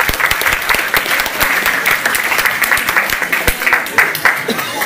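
An audience at a local show in Doulevant-le-Château claps steadily for the singer, a dense, continuous wash of applause with a few louder individual claps standing out.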